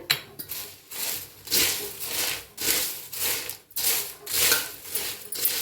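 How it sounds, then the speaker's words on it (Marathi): Crisp fried corn chivda being tossed by hand with a spice mix, giving repeated dry rustling, crunchy swishes in steady waves, close and fairly loud, with no talk. "तर हाताने असं मिक्स करून घ्यायचं म्हणजे सगळीकडे लागतं"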